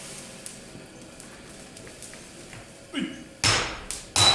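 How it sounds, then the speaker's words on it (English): Swordsmiths forging a katana strike hammers on an anvil. Faint scattered taps come first, then a few loud, close, ringing blows near the end, with no voices. "the master and his assistants tap upon the anvil in various ways to efficiently communicate with each other while in action"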